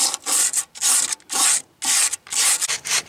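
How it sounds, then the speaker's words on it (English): Coarse sandpaper, about 60 to 80 grit, scrubs along the seam of a leaking aluminum boat in six loud, rhythmic strokes, each a bright rasping burst with short pauses between them. "Sanding all around the seam with about 60 grit, you use 80 grit sandpaper."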